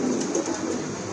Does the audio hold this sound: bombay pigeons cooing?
yes